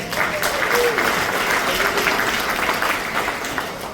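A comedy club audience applauds, a dense and steady wash of many hands clapping at moderate distance, holding evenly for a few seconds before easing slightly.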